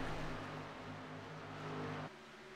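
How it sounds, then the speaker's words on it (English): Race cars thunder past the start-finish line at Texas Motor Speedway during a Grand Nationals race. Engines blend into a continuous loud roar that dips slightly near the end, with no voices. "I love the sound of those cars going by that start-finish line"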